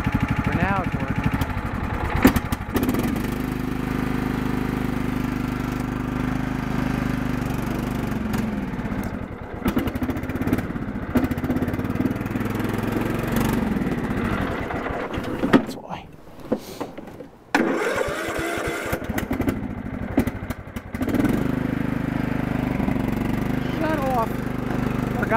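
A John Deere LT2000 lawn tractor engine in rough running condition drones steadily nearby for most of the stretch, briefly dipping and faltering midway before picking back up, with a voice talking over it.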